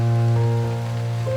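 Rain falls at Zoo Negara in Malaysia near a white pelican, a steady wash of drops heard close and fairly loud beneath a strong, constant droning hum with no talking.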